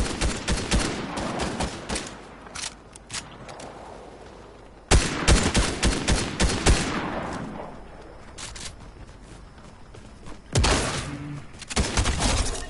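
Bursts of gunfire in a PS4 shooter, fast automatic volleys and single cracks repeating loudly in clusters across the stretch, with short quieter gaps between.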